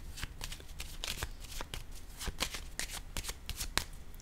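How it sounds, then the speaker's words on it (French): A deck of tarot cards being shuffled up close, with quick irregular riffles and flicks crackling over several seconds at a quiet level. "le temps que je choisisse le jeu de cartes"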